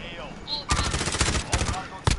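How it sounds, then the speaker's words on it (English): Rapid bursts of automatic gunfire in the Call of Duty Warzone video game, loud and close with clustered shots, while players talk over the shooting. "They're shooting."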